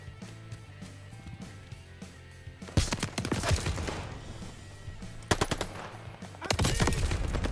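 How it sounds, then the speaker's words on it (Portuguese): Gunfire in Call of Duty: Vanguard Warzone gameplay, with quiet background sound giving way to loud bursts of rapid automatic fire near the three-, five- and six-and-a-half-second marks. "Eita, já tomamos tiro já os dois."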